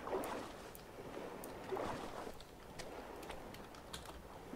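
Wooden raft sloshing and paddling through open sea in the survival game Stranded Deep, a soft, steady wash of water with two swelling strokes, fairly close and moderately quiet, no voices.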